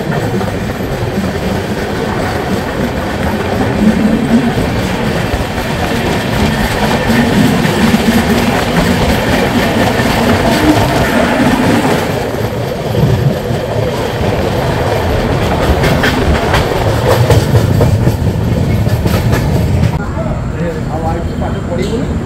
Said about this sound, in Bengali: আমাদের ট্রেন এখন ভদ্রক স্টেশন ছাড়লো।